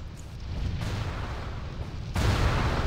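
Rockets explode in World of Warcraft as a dense, rumbling barrage of game blasts with no talking, swelling into a louder surge near the end.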